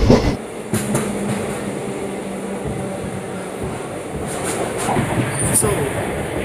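Sleeper class train travelling from Lingampally to Kakinada at night, a steady rumble and rattle of the moving carriage heard from inside, with brief clanks and a faint high squeal.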